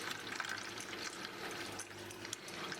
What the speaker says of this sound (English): the sanitizer is going to come out through your purge valve